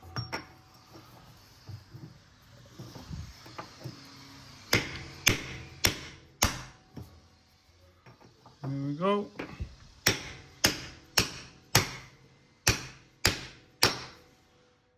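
Heavy hammer blows strike a 36mm socket to drive a seal into a Mk2 Escort van, a few scattered hits and then a steady run of loud evenly spaced bangs, with a brief spoken remark partway through.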